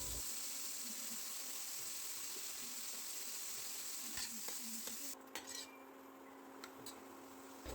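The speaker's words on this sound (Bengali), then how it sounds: "এবার আমি প্যানের মধ্যে সর্ষের তেল দিয়ে চিংড়ি মাছগুলো নুন হলুদ দিয়ে হালকা ভেজে তুলে নেব" Prawns frying in mustard oil with salt and turmeric give a soft, steady sizzle, with scraping and clinking of a utensil against the pan joining in near the end.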